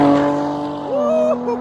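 A Jaguar F-Type with a supercharged V6 and stock exhaust revs loudly nearby, the engine note climbing and falling in quick pulls against steady background drone.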